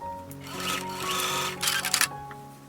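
A sewing machine runs steadily through thick, layered dress fabric, a close mechanical whir and hum that speeds up briefly near the end, with the fabric pushed along by a seam ripper.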